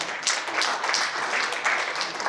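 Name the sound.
applause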